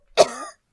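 One short, sharp cough bursts out close and clear, then tails off quickly into silence.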